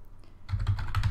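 A quick burst of clicky keystrokes on a computer keyboard, several rapid taps in a row, close and fairly quiet after a brief silent start.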